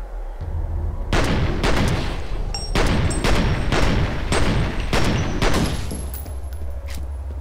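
Gunfire in F.E.A.R., a series of about eight heavy, booming single shots at fairly regular intervals, loud and close, with ringing tones between blasts.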